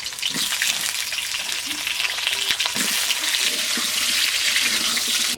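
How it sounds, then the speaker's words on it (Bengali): Potatoes frying in hot oil in a pan, the first step of a home-cooked chicken curry. A loud, dense sizzle runs steadily and close throughout, with no talk over it. "আলুগুলো তেলের মধ্যে দিয়ে দিচ্ছি।"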